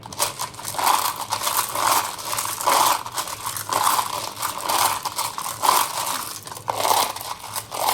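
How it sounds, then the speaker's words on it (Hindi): Rune stones clatter and crunch as they are shuffled for a reading, a steady close rattling with repeated rhythmic surges, heard alone without talk. "जब तक मैं रून्स को शफल करती हूँ आप अपने पार्टनर का ध्यान कर लीजिए"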